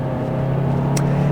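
A Kia Carnival hybrid's engine strains under hard acceleration, a steady loud drone with a low hum and rising whine, heard alone up close.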